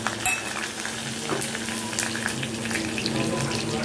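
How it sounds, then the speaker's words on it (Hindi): Whole coriander seeds and cumin sizzling steadily in hot oil for a kadhi tempering, a close, continuous crackling fry with faint stirring and light clinks. "ऑयल अच्छा गर्म था तो मैंने इसमें साबुत धनिया और जीरा डाल दिया"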